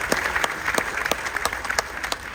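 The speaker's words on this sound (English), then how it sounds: "So give a round of applause for" Room of cruise passengers aboard the Carnival Dream clapping, a steady crowd applause with sharp individual claps standing out, sustained throughout.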